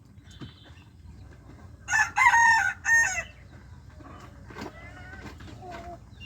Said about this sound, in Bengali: এটা হচ্ছে ব্রাপ শেব্রাইট, অনেকে শামু শেব্রাইট বলে। ছোট মুরগি